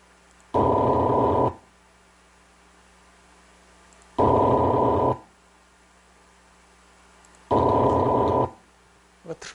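A defective moving coil speaker plays a low-frequency multitone in three one-second bursts of rough, droning buzz. The low tone carries a faint rattle, and short quiet gaps separate the bursts.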